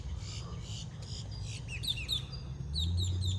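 Birds chirp and call in short high bursts around Venetian Gardens in Leesburg, Florida, with a steady low outdoor rumble underneath and faint voices nearby.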